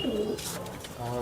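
Pigeon from Uttar Pradesh cooing close by, a soft low throaty coo at the start and again near the end, with a short breathy rustle between.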